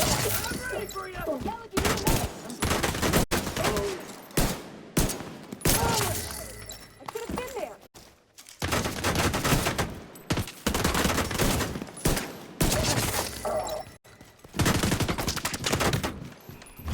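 Rapid pistol gunfire in The Division 2, loud bursts of repeated shots filling nearly the whole stretch, broken by a few short pauses, with game music or noise behind.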